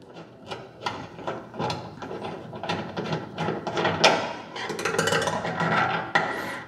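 Metal parts clink and ratchet as the automatic draw-off probe is pulled from a maple syrup evaporator, a busy run of close mechanical clicks, scrapes and knocks with no talk.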